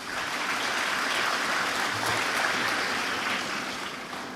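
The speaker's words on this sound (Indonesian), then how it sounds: "Boleh tepuk tangan?" Audience applause at a university graduation ceremony at Unpad, a steady, dense wash of clapping from a large crowd that fills the whole stretch at even loudness without pause.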